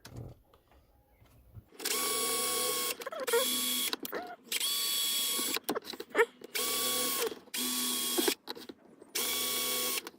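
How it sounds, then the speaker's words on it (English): A power drill boring small holes in a thin metal biscuit tin, six loud whirring bursts of one to two seconds each with short pauses between, close and alone. "So I'm gonna drill little holes"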